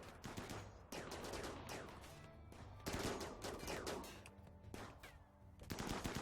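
Rapid bursts of gunfire from a Rimworld colonist shooting at a fox, loud and continuous with sharp repeated cracks layered under game ambience.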